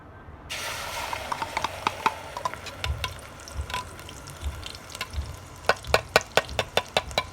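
Spiced masala frying in about two measures of oil in a large pot for a one-kilo mutton curry, giving a loud, steady sizzle with a sharp burst as it goes in and crisp stir clatters toward the end.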